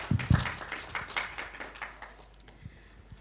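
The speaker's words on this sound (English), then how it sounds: "let us all clap for all of us here who have been working and have shown such good presentations" An audience at an AI for science and engineering workshop session at IITD claps, starting with a few sharp, loud claps, then settling into scattered applause that thins out and fades toward the end.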